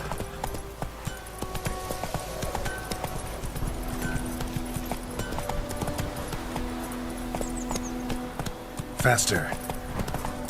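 Horse hooves clip-clop steadily through The Witcher 3 gameplay, a rhythmic galloping beat running under background game sounds and music while a voice speaks briefly.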